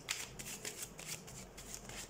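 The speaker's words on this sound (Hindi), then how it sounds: "सबसे पहले हम कार्ड शफल कर लेते हैं लिब्रा।" Tarot cards being shuffled by hand, a soft papery riffle and slide repeating in quick bursts, fairly quiet and close with no talking.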